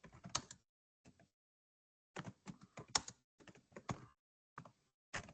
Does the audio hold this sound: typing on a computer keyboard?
yes